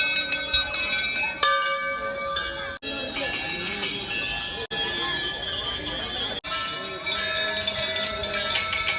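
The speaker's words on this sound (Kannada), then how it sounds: "ಇಲ್ಲಿ ನೀವು ಗಂಟೆಗಳು ನೋಡ್ಬೋದು ಹೆಂಗೆ ಹೊಡಿತಾ ಇದ್ದಾರೆ" Temple bells rung at the Sowthadka Ganesha temple ring out in bright, sustained metallic tones, struck repeatedly and layered over a busy crowd, with brief dropouts between passages.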